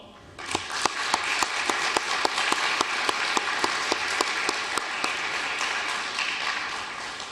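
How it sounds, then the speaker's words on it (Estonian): Applause from an audience at a university master's graduation ceremony, sustained steady clapping from a crowd, with one clear, rhythmic nearby clapper standing out above the rest. "teeme neile veel kord suure aplausi"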